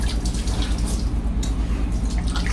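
Tap water runs steadily into a sink while hands are washed, a close, continuous splashing gush with small irregular spatters.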